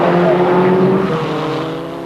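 Formula Ford 2000 race cars at Brands Hatch on a damp 1983 circuit, with a steady pack of engine drones blended together at mid distance, slowly fading as they pull away.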